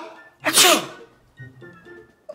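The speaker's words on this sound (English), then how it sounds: "You want me to pretend to sneeze and have boogers?" A single loud, theatrical pretend sneeze by an adult playing a family prank, bursting out sharply then fading, followed by faint voices and quiet background sounds.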